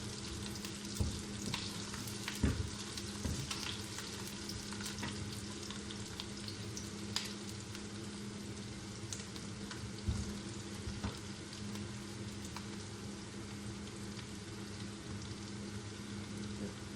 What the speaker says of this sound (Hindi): प्याज को हम हल्का ब्राउन करेंगे।